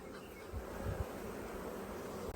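Honey bees swarm around an open hive during an apiary inspection, a dense, continuous buzz close by with a few low bumps from frame handling.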